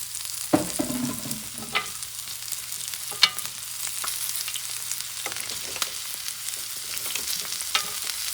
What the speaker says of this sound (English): to saute this baby on the griddle